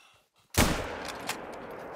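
A single hunting rifle shot fires in theHunter: Call of the Wild, a sharp loud crack after near silence, followed by a long rolling echo that fills the rest of the moment.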